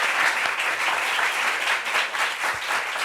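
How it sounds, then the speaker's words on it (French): A studio audience on a French-language talk show greets a guest with a sustained, even burst of applause, with many hands clapping together from start to finish. "On applaudit pour elle"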